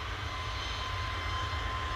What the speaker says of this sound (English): Jet 2 jetting off this time.